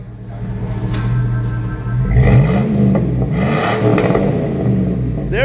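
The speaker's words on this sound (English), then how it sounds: "Give us a little rev, brother." A 2002 Chevy Tahoe with a Flowmaster 40 series medium muffler and black exhaust tip idles with a deep rumble, then revs up and back down twice, loud and close.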